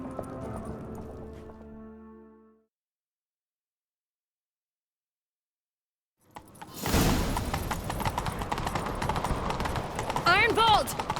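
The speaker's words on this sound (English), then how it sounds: "Grab a horse, we'll chase him down." Rhythmic hoofbeats of a galloping horse in The Witcher 3, loud and continuous after a stretch of silence, following brief speech.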